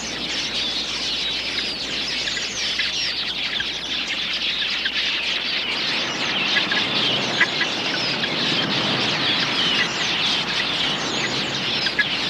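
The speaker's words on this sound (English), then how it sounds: "A flock of quilias makes a hit-and-run raid on the waterhole." A flock of quelea birds raiding a waterhole, a dense, continuous twittering chorus of many small birds chattering at once, steady and fairly close throughout.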